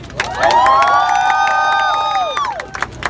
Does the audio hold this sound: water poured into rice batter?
no